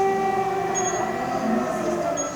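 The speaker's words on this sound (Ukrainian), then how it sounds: "Сирена лунає під час прийому пацієнтки." An air raid siren sounds in Dnipro during a patient's appointment at a hospital, a steady sustained wail filling the clip at moderate loudness with no talk over it.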